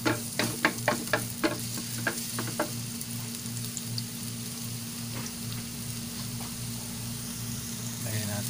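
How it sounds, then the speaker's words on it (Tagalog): Chopped garlic sautéing in a hot pan for a corned beef breakfast, a steady soft sizzle with occasional clinks and stirring taps of a utensil near the start, no talking. "Gisa natin din. Ayan, gisa natin tong bawang."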